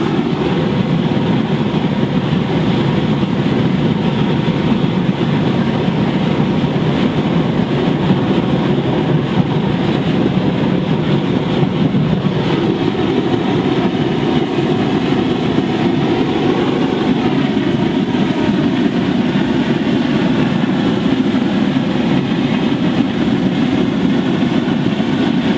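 A 600 kW oil burner with its blowers running roars steadily and loudly, a dense, unbroken jet-like rush with a low rumble that continues without pause throughout.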